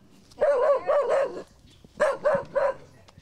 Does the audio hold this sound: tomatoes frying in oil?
no